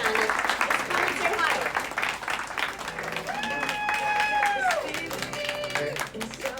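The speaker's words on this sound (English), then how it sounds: "Another applause." Audience applause at a Heartland Hypnosis keynote, with steady clapping from a crowd and a speaker's voice over it. Sustained musical tones rise in the middle.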